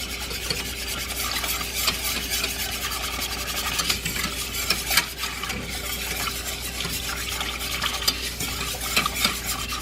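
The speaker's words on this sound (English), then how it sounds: "Whisk that around to get all those clumps out from that flour." A whisk scrapes briskly around a pot of chicken broth and flour, making a continuous rhythmic stirring and clinking with a soft simmering hiss underneath and no talking.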